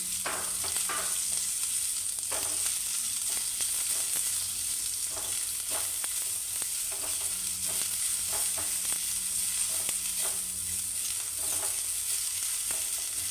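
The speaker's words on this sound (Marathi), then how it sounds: "त्याच्यामध्ये मी ही कापून घेतले दुधी भोपळ्याची सालं, ती त्याच्यात छान परतून घेणार आहे मी." Bottle gourd peels being sautéed with reddened lentils in a pan for a lauki peel chutney, with a constant bright sizzle and repeated short scrapes of the stirring spoon at an irregular pace.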